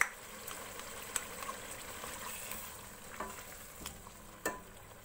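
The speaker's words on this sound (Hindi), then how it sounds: "यहाँ पर चिकन को अच्छे से भूनना है ताकि टमाटर अच्छे से सॉफ्ट हो जाए और मसाला भुन जाए" Chicken cooks with tomatoes and masala for biryani, giving a soft sizzle alongside the scrape and clack of a spoon stirring the pan, with a few sharper knocks near the end and no voices.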